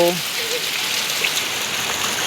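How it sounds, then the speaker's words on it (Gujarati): Heavy rain pours down in Patan district, Gujarat, as a loud, unbroken hiss of drops on surfaces, with a brief voice at the very start. "બહુ જ અતિથી ભારે અતિ વરસાદ વરસી રહ્યો છે"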